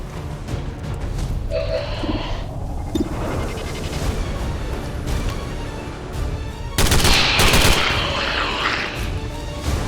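Gunfire in the X-COM video game: dense, loud bursts of rapid weapon fire and booming impacts run throughout, swelling into a heavier volley near the end.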